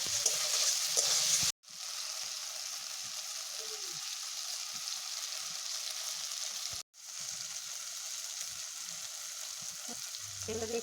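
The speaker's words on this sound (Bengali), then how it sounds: "মশলাটি ভাজা হয়ে গেছে" Spice paste sizzles steadily in hot oil in a pan for a loitha fish curry, a continuous loud frying hiss broken by two brief silent gaps, with occasional faint stirring scrapes.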